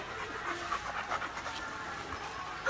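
A dog pants close by, quick rhythmic breaths repeating at a fairly faint, steady level with no talk over them.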